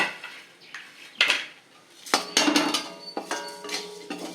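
Metal spatula or spoon scraping and clinking against a pan as white sesame seeds are dry-roasted, a string of close, uneven scrapes and taps with short pauses, no voices.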